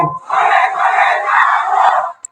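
A large crowd at an Islamic sermon (waz) in Joypurhat roars a takbir response in unison, one loud sustained shout lasting about two seconds before breaking off abruptly.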